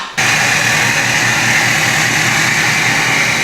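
A vehicle engine starts up loud and close, then holds a steady droning rumble as it drives out, with no voices.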